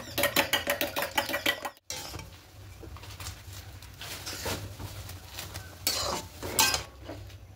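A utensil beats a mixture with a little salt in a bowl for Maggi noodles, giving rapid rhythmic clinking that breaks off, then returns as softer scattered taps and scrapes, close by.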